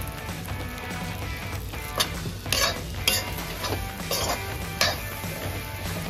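Yellow mustard seeds being stirred into a green chili pickle in a pan, with a steady scraping stir and a few clear spoon clinks against the metal over a faint sizzle.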